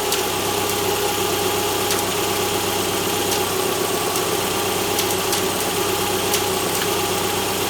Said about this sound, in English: the engine RPM kind of changed.